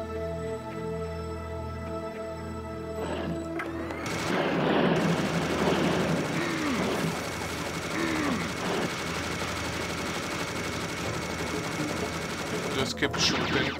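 Gunfire rattles in Serious Sam: The Second Encounter, a dense, continuous barrage of rapid shots lasting several seconds, loud and sustained, following a quieter stretch with tonal game sound.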